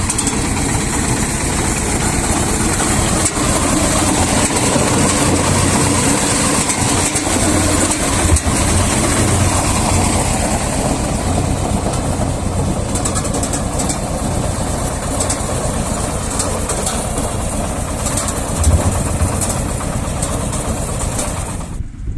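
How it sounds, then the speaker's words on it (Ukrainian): A Ukrainian mini pumpkin combine threshes pumpkins with a steady, loud mechanical engine drone that runs throughout, a dense rumble with rattling and knocking of pumpkins being fed in. "Закидаю їх в комбайн, щоб вони теребило."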